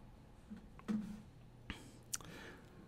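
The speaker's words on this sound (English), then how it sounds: "right now I'm just clicking on different Alt keys" Alt keys being pressed on a computer keyboard: a few sparse, faint clicks and taps scattered over a quiet background, with no voices.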